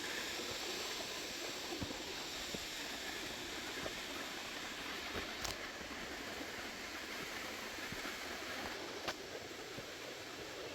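A waterfall in Langkawi gives a faint, steady rush of falling water, with a few soft clicks and knocks scattered through the continuous wash.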